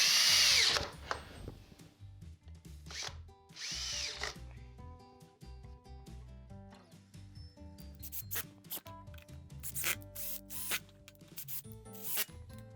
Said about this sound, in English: It's a good idea to start the screws, because they're not going all the way through straight away.